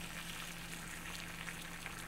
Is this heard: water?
yes